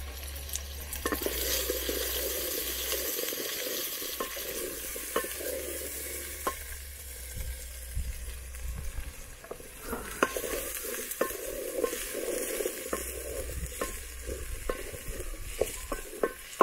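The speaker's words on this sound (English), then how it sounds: "I stir." Fish curry with potatoes cooks in a pot in an African village, a low steady sizzle under repeated scraping and stirring strokes with occasional sharp clicks of the utensil.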